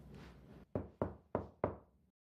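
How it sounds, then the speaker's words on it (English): Four sharp knocks on an office door, evenly spaced and close by, each ringing out with a short decay after a softer rustle at the start. "my assistant knocked and came in"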